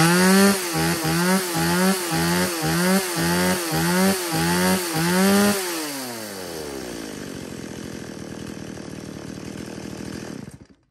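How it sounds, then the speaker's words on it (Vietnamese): A Stihl 018 chainsaw revs repeatedly in quick regular throttle bursts, close and loud, then settles into a steady buzzing run for several seconds before cutting off. "Đó, máy cưa."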